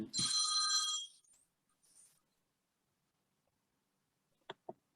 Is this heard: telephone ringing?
yes